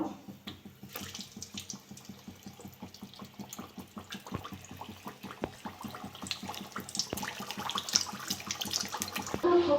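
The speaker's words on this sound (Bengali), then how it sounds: "তেলটা গরম হয়ে গেছে, আমি এবার ভেজে নেব।" Flour-dough sweets fry in hot white oil in a kadai on a gas flame, a steady watery bubbling and hiss that swells louder toward the end, with no talking.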